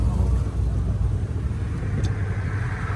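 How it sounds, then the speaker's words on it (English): A car passing on a road in Saskatchewan, a steady low rumbling engine and tyre roar heard close by, holding at an even level throughout without any voices. "There's a car coming. There's a car."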